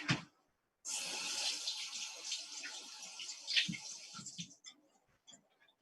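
Running tap water rinses a yogurt and honey face mask off the skin: a steady close rush of water for several seconds, then a few scattered splashes and drips as it stops.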